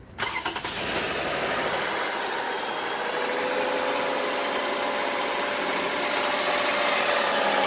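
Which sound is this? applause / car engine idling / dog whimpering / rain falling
car engine idling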